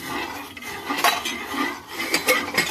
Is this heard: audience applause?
no